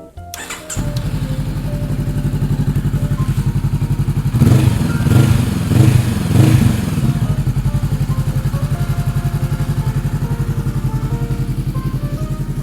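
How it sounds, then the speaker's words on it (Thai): A 2017 Honda CB500F motorcycle idles steadily after a brief start, its close, even engine rumble running throughout with a slight rise in revs midway. "ตัวเครื่องยนต์นะครับเงียบๆนะฮะไม่มีดังเลยนะครับ"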